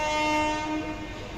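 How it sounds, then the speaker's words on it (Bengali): A train runs on a railway line with its horn blaring in a steady, loud, sustained tone, fading slightly toward the end with no voices. "এই লাইনটাই কি করে ট্রেনটা এলো"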